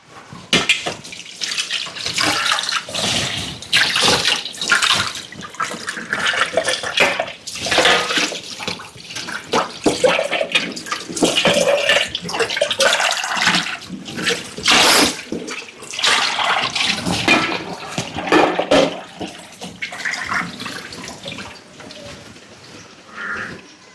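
Water draining off boiled rice in a home kitchen, a steady rushing, splashing pour that runs close and fairly loud, with gurgling surges throughout and no talk over it.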